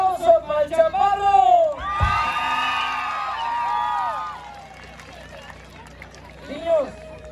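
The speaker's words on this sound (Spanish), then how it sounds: "¡Aplausos para el chaparro!" Spectators at a jaripeo rodeo show cheering and shouting for a short contestant, a broad burst of whoops and crowd noise lasting a few seconds after an announcer's amplified voice, tapering off with more talk at the end.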